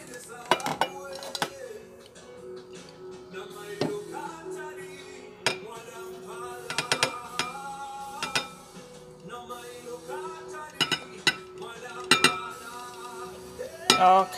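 A bowl is shifted about on a kitchen counter during cooking, giving scattered clinks and knocks of dishes and cutlery at irregular intervals, fairly close and clear.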